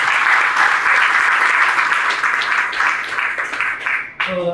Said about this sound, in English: So a loud round of applause for everybody sitting here.